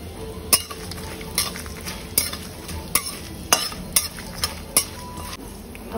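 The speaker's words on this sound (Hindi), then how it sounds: "दो लाल मिर्च, सूखी हुई लाल मिर्च, थोड़ा सा हींग डालेंगे।" Two dried red chillies and a pinch of asafoetida sizzle in hot oil, a steady crackling fry broken by regular sharp metallic spoon clinks and stirs against the pan, near and fairly loud, no talking.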